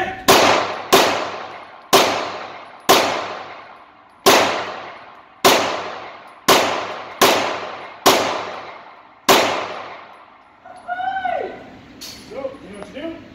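Gunfire at a shooting range: about nine loud, sharp reports from a gun, spaced roughly a second apart with ringing decays, followed by softer scattered sounds and a voice.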